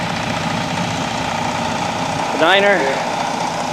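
STCR locomotive engine No. 9 idles at the Rosy Rhubarb Festival in Shedden, Ontario. Its steady low diesel drone holds throughout, and a voice speaks briefly near the end.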